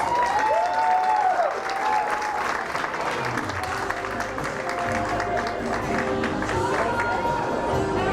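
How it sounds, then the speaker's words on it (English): A large crowd at a drag pageant applauds continuously with scattered cheers and whoops, loud and sustained, with an amplified announcer's voice briefly audible over it. "please make some noise and welcome Justice Paige Counts."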